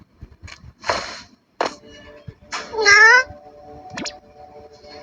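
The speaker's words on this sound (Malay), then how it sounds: "Oh, ada kucing." A cat in the action-adventure video game HAAK meows several times, with short calls and one longer, wavering meow in the middle, separated by quiet gaps.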